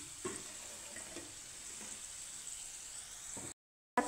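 Soybean and mung dal fritters fry in hot oil with a steady, even sizzle and light bubbling hiss, broken by a brief silence just before the end.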